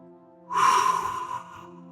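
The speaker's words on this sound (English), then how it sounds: "The first step is take a deep breath." A single slow, deep breath, drawn in and let out over about a second, close and clear against a quiet room with a faint steady hum beneath it.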